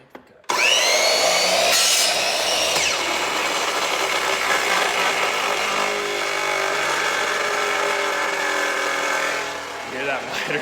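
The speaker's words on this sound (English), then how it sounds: "You hear that miter saw?" A miter saw rips through a wood board at a 45-degree angle, starting with a sharp spin-up and then a loud, sustained high-pitched whine and grind close by for several seconds before spinning down.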